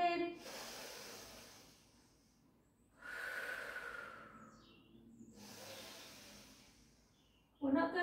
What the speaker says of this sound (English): take a beautiful breath in